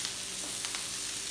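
Cumin potatoes frying with spices and green coriander in a pan, a dense, steady sizzle heard close up over a brief moment.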